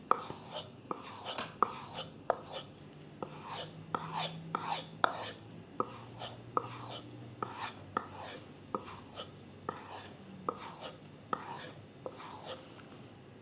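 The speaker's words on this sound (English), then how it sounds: "This is the edge rubbing sound." An S35VN steel knife edge being reprofiled on a sharpening stone, rubbed in steady repeated strokes that give a close, dry scraping rhythm with sharp ticks at each pass, heard alone without talk.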